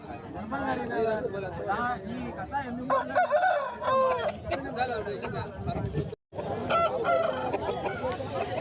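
A Kakitega rooster, about 10 to 12 months old, crows loudly and repeatedly nearby at a livestock market in Rayachoti, Kadapa district, amid clucking hens and people talking in the background.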